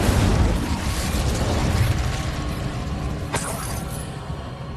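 Fire spell cast in Hogwarts Legacy on PC: a dense, roaring burst of flame that stays loud and broadband throughout, with a sharp crackling flare near the end.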